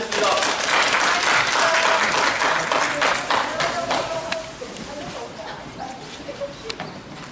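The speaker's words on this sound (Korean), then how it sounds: "박수로 마치겠습니다." Crowd of union workers clapping to close an outdoor press conference protesting a presidential award in front of Gumi city hall, a sustained round of applause that thins out into scattered claps and murmuring voices.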